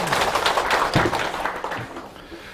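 At a Buddhist college lecture at Bongeunsa temple, an audience gives a short burst of clapping, a dense patter of many hands that fades over a couple of seconds.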